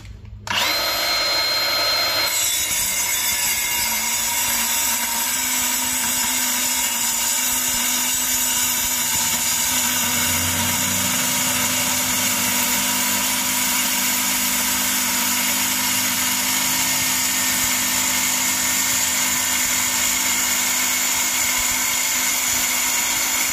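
A Milwaukee M18 Fuel cordless circular saw cuts through 1/2 inch thick metal, a loud, steady high-pitched whine with a harsh metallic ring that spins up at once and holds for over twenty seconds without talk.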